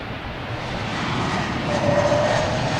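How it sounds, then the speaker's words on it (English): Big Korean Air airliner at Boston Logan Airport, a loud continuous jet engine roar building gradually, broad and steady with a faint whine, no voices. "we got the Korean Air, the big Korean Airlines"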